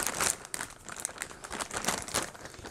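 Plastic packaging on a mailed clothing parcel crinkles and rustles in repeated bursts, close and fairly quiet, with no speech.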